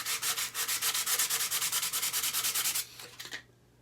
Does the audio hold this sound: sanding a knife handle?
yes